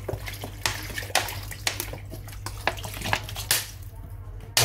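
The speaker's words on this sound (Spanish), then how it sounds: "Y ahora echamos el agua fría, fría. Agua mineral, como he dicho" Cold mineral water poured over chopped gazpacho vegetables in a bowl, heard as close splashing and pouring with several sharp clinks and knocks scattered throughout, no talk.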